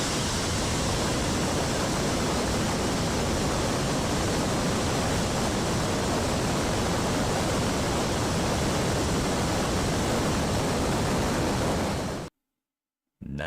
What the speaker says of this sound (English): You can hear the turbo pumps, well, pre-burners in this scenario with this engine. You can hear them spin. You can hear them spool up.